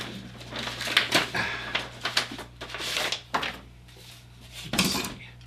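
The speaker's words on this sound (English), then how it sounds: "as I rip the envelope open here." A paper envelope is ripped open by hand in an unboxing, producing several close, sharp tearing and crinkling bursts separated by short pauses, with a low background hum.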